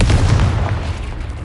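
Hogwarts Legacy's Confringo fire spell bursts with a loud, deep boom, its low rumbling roar sustained and gradually tapering across a brief moment, no speech present.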